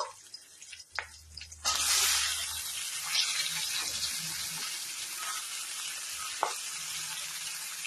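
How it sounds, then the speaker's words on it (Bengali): Chopped onions and green chilies drop into hot oil. After a quiet start, a loud, steady sizzle bursts in and keeps crackling to the end. "এবার দিচ্ছি কুচি করা রাখা পেঁয়াজগুলো"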